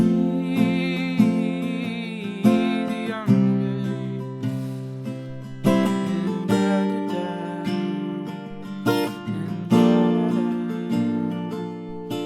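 Strummed guitar chords ring out in a steady rhythm with clear attacks and sustained strings, played alone and close, without any extra connecting chords.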